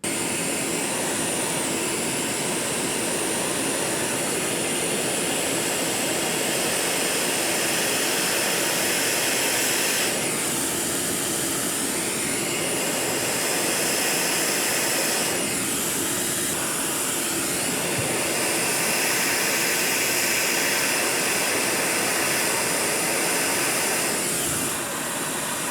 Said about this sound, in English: I'm going to get the hot air station going, and we're going to take off the bad parts.